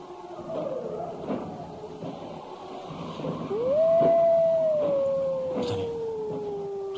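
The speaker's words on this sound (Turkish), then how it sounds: "Kurtlar yine başladı." Wolves howling in the distance, with one long rising and slowly falling howl drawn out over several seconds above a low rumbling outdoor ambience.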